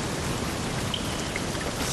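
Heavy rain pours down steadily, a dense continuous hiss of drops striking surfaces, alone and without voices.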